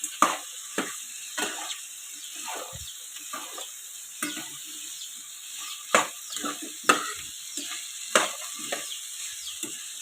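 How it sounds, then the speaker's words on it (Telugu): Cut okra is stirred in a frying pan, a light sizzle running under repeated scraping strokes of a spoon, close and fairly quiet with no talk. "మనం ఇందాక కట్ చేసి పెట్టిన బెండకాయ వేసాక కొంచెం మిక్స్ చేసేసుకోండి."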